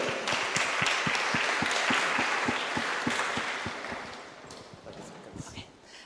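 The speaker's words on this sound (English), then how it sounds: "Please give a round of applause to Pick'em." Applause from the audience at the opening ceremony of the Oxford Blockchain Conference 2023, with dense clapping across the room that stays steady, then slowly fades toward the end. A few individual claps stand out clearly near the close.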